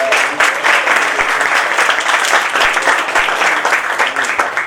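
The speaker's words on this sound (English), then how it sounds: "So let's give her a round of applause." An awards ceremony audience at a federal executive event in Glastonbury, Connecticut bursts into dense, sustained applause, loud and close, steady throughout with no voices over it.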